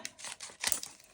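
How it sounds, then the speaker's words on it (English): Scissors snip off excess material from a craft coaster in a few quick, close, faint cuts with a light papery crinkle. "now what you're going to do is you're going to cut off any excess"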